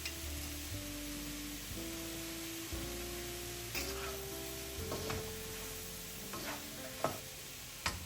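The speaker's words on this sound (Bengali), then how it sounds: "ইলিশ মাছটা আমি ভাজি করব সরিষার তেল দিয়ে" Hilsa fish fries in hot mustard oil with a steady broadband sizzle, joined by a few utensil clinks and stirring scrapes near the end, under a faint tonal background hum.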